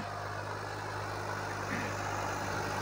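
A New Holland 3037 tractor of 39 HP drives a tiller, its engine holding a steady, even drone throughout with no pauses or voices.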